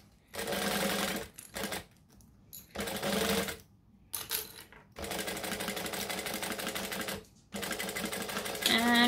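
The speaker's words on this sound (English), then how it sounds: "I'm going to start here, I'm going to stitch and I'm going to back stitch." A sewing machine stitches and back stitches fabric in several bursts of steady, rapid mechanical whirring, separated by short pauses, close and clear with no talking.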